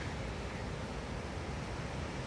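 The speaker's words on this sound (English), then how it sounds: "a lot of water moving very fast" Fast-moving water rushes steadily near the stairs of an outdoor spot along the road to James Bay, a dense, continuous roar that stays loud and close without pause, with no talking over it.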